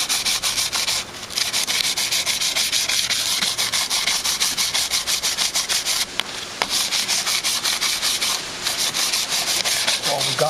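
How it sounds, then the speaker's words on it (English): Hand sanding of metal with 80 grit sandpaper on an old drill press, a loud, close, continuous scratchy rasp in steady back-and-forth strokes with brief breaks. "sandpaper right back and smooth this out a little bit and put a little film of oil on that. This happens to be 80 grit"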